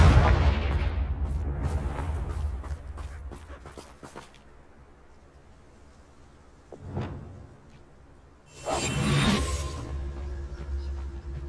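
A blasting curse spell cast in Hogwarts Legacy, heard as a short burst of booming impacts near the start, then a quieter stretch with a lone thud and a second bright crackling blast toward the end.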